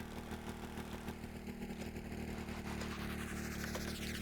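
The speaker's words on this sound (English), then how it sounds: "Let me start your engines." Hydrofoil boat engines run in the Stormworks video game, a steady low droning rumble that holds even throughout with a slight rise toward the end, with no voices.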